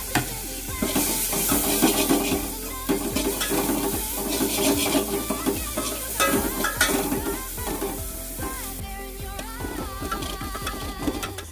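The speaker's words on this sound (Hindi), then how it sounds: "अब इसमें प्याज भी डाल देंगे और इसे थोड़ा सा गोल्डन ब्राउन होने तक भून लेंगे।" Onion sizzling steadily in a pan of hot oil for masala oats, with a busy crackle and repeated scraping of a spoon stirring throughout, close and loud.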